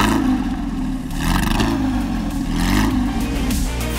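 A Porsche engine revs hard and continuously, loud and close, with a rising and falling mechanical roar and no voices over it.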